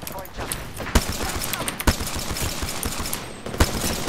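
Rapid gunfire from a Pathfinder shooting in Apex Legends, several sharp loud bursts near one second, around two seconds and around three and a half seconds over a busy, constant game backdrop with faint voices.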